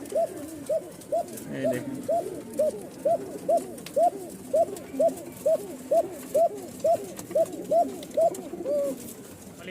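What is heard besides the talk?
Rajshahi Giribaz pigeon (kokka) calling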